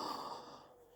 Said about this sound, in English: Mommy yawn sound.